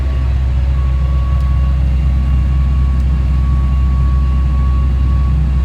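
A combine harvester picks corn in a field, a loud, unbroken engine drone with a steady low rumble and a faint tonal hum, heard from inside with no talking.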